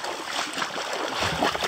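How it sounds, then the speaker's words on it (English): Water rushing along a mountain creek, a constant broadband splashing flow with no breaks, heard moderately close. "Hey, this is a good looking creek, eh?"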